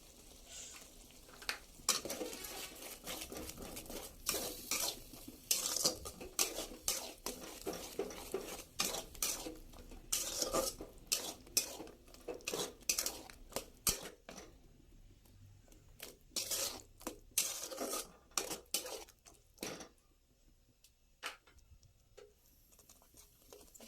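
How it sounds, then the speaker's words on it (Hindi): Mustard-paste masala sizzles in oil in a pan for a home-style Odia potato dish, with repeated sharp clinks and scrapes of a spoon stirring against the metal over a soft frying hiss. "मसला रू तेल बाहर पर्यंत भाजिबा।"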